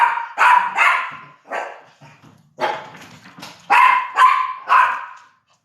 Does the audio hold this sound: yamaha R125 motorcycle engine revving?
no